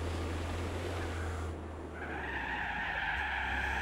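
Tires skid through a wet drift in the racing game Gran Turismo 4, a loud sustained hiss and squeal over engine drone that briefly eases, then returns.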